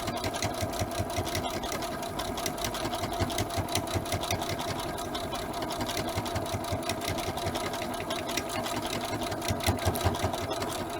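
A sewing machine runs steadily, stitching tape closed along a strip of fabric bunting, its rapid even needle chatter loud and close throughout with no talking.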